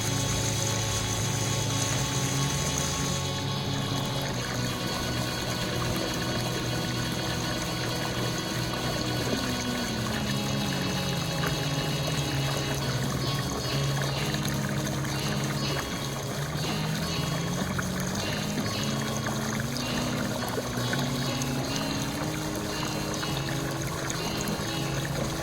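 Water pours steadily into an above-ground pool to top it off, a continuous rushing wash with a low pump hum beneath, close and unbroken throughout.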